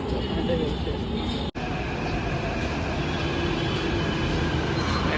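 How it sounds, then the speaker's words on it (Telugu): A Hyderabad metro train pulls into a station with a steady loud rumble and hiss of wheels and carriages, broken by a brief dropout near the start. "మెట్రో అయితే వచ్చింది."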